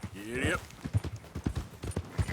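Horse hooves pound rapidly in Red Dead Redemption 2, a steady galloping clip-clop close up, accompanied by a brief whinny at the start and someone talking over the hoofbeats.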